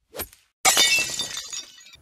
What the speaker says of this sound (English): she hit it too hard and it smashed a window